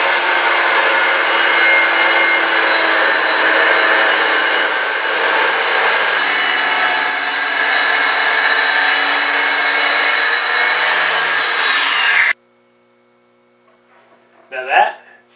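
A circular saw running along a saw guide jig rips through an MDF sheet, a loud steady whine with rough cutting noise lasting about twelve seconds before cutting off abruptly, followed by a brief quieter rustle.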